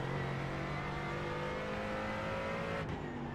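A race car in the iRacing video game at Long Beach, engine droning steadily at high revs with a faster car approaching, a sustained even whine with a brief sharp transient near the end.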